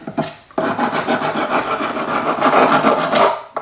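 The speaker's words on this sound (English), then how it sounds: "then I'll just sand them." Edges of a metal anticlastic ruffled cuff being sanded by hand, a loud close rasping rub in quick repeated back-and-forth strokes after a brief pause at the start.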